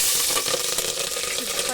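Green chillies sizzle and spit in hot oil in a pan, a dense, loud, steady frying hiss with faint stirring, heard close and alone.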